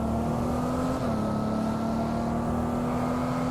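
An electric car in the Test Drive Unlimited Solar Crown racing game emits a synthetic motor tone, a steady humming whine that holds nearly constant pitch with a slight dip, loud and continuous with no talk.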